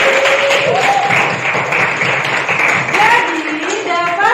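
Classroom applause during a lesson, with steady clapping blended with voices and a few whoops, lively and fairly loud across a few seconds.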